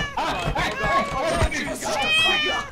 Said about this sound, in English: Oh, no, that's a cat.